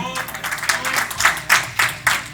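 A church congregation at a Spanish-language sermon breaks into applause, a dense patter of many hands with a few stronger rhythmic bursts, fairly close and lively.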